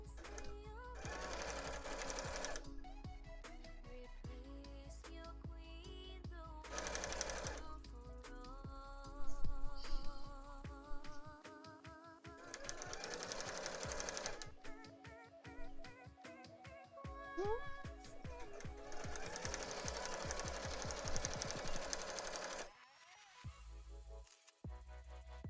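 A sewing machine stitches a cosplay skirt, running in repeated bursts of steady mechanical whirring and needle clatter with short pauses between runs, close and fairly loud throughout.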